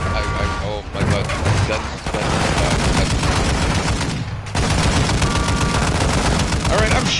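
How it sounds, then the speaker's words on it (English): A 50 caliber machine gun fires in Modern Warfare III gameplay, heavy continuous bursts of rapid gunfire that are loud and close, with brief gaps between long strings of shots. "I'm shooting a 50 caliber machine gun at these guys"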